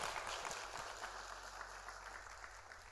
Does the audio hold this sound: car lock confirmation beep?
no